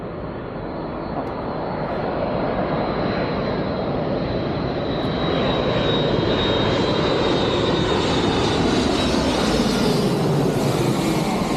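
An airliner with a black tail and blue winglets landing at London Heathrow, its engine roar loud and close, building quickly and holding as a broad steady rumble that passes overhead.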